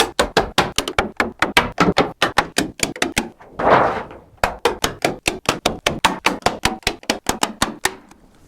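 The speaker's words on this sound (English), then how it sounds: "So I'm going to face that side down, and the shiny side, the slick side, what for scraping poop off of, will be facing up in the floor. And I'm just going to staple it in place." A staple gun fires again and again in a steady run of loud, sharp clacks, fixing PVC floor covering in place on a wooden chicken coop. A short scraping shuffle breaks the rhythm partway through, with no voices.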